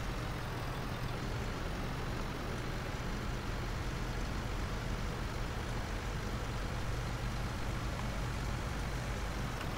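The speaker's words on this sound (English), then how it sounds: "Nice sound on this truck, actually." A heavy truck engine rumbles steadily and loudly throughout in the video game Farming Simulator 19, a constant low, dense drone with no voices.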